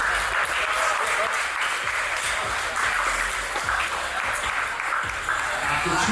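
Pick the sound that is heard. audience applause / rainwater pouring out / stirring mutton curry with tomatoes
audience applause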